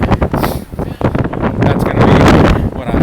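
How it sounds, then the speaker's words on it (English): Strong gusts of wind, near 60 miles per hour, on a stormy New York day batter the microphone with loud, rumbling buffeting that surges and swells continuously. "Windy, like very windy, 60 miles per hour."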